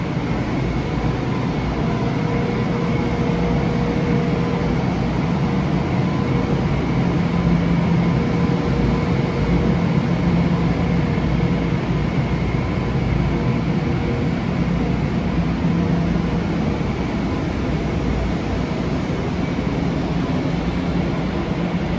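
A low, steady rumble and hum from an idling train sits in the background of a Long Island Rail Road platform at Grand Central Terminal, continuous and unchanging with faint tonal whine throughout.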